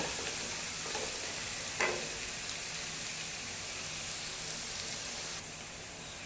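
Crushed garlic and ginger fry in a pan with a steady, soft sizzle that holds throughout, broken by a brief scrape of stirring near the start.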